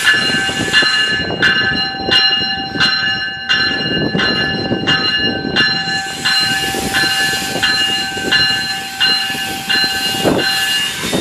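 Train reversing slowly at Danforth, a crossing bell clanging at a steady beat over rumbling wheels, with a burst of hissing air joining partway through, close and loud.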